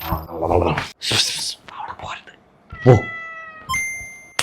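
A cat meows several times at close range, short plaintive cries mixed in among people talking.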